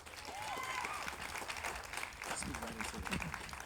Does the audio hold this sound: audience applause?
yes